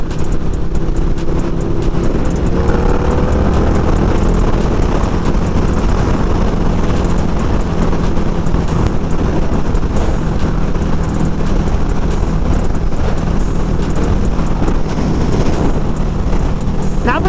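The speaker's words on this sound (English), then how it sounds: "We're riding here at about 70 miles an hour, and the wind noise is low." Wind rushing around a Ruroc Atlas 3.0 helmet at about 70 mph on a motorcycle, a dense steady roar with engine and road rumble underneath, loud and continuous with no break.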